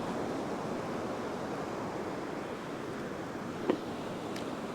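Steady broadband surf wash from ocean waves on a beach at low tide while beach fishing, continuous and fairly loud, with a brief sharp knock near the end.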